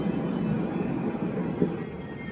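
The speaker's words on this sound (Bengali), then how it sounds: "এই যে দুটো যে মেট্রো আসছে দেখো, মানে ট্রাম যাকে বলি আমরা" A city tram rumbling past at close range, a steady low mechanical roar that swells briefly midway with no voices over it.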